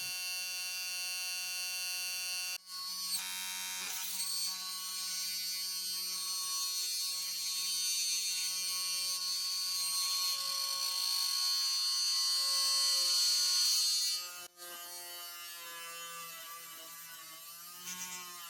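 A small USB-powered mini drill runs idle with a loud, steady high-pitched electric whine and buzz, cutting out briefly twice and spinning back up.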